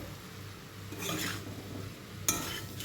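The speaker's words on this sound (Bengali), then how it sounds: "এখন ভালো করে একটু কিছুক্ষণ কষিয়ে সামান্য জল দিয়ে সেদ্ধ করে নিলেই আমার শাকটা ধীরে ধীরে হয়ে যাবে" Homegrown mixed garden greens seasoned with turmeric and chili powder are stirred in a pan, with quiet scraping and soft sizzling and a couple of brief louder stirring swishes.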